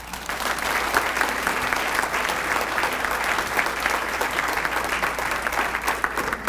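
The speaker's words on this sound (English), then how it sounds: "how about one more final round of applause for the 28th class inducted into our Hall of Fame" Sustained applause from the audience at Indiana State's 2019 Hall of Fame induction ceremony, a dense, even wash of many hands clapping continuously without pause.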